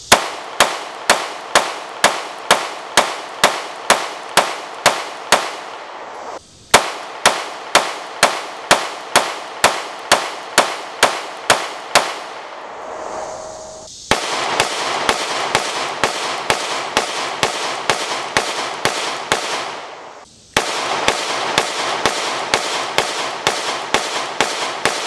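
Sig P365 X pistol fired on a range: long strings of sharp, loud gunshots in rapid, even succession, with two brief pauses between volleys and the later shots blurring into a denser, echoing barrage.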